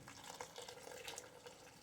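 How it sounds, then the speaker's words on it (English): Hot water poured into cornbread dressing in a home kitchen, a steady faint splashing trickle close by with no voices over it. "Now we can put our hot water in there."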